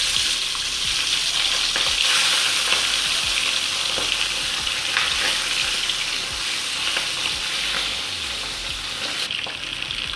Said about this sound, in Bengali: মাছগুলো কড়াইতে ছেড়ে দিচ্ছি।